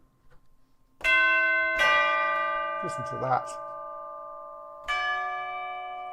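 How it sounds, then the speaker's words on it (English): Orchestral chimes from the Symphonic Gold sample library ring out in three loud, sustained strikes, each tone decaying slowly, with a brief quieter flurry of notes between them and a short spoken remark just before. "orchestral chimes."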